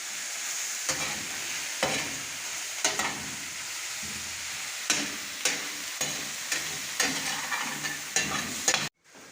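Onions frying in butter with oyster mushrooms give off a steady bright sizzle, broken by regular scraping stirs of a utensil about every second, close and loud, ending abruptly.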